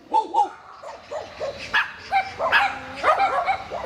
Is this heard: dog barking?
yes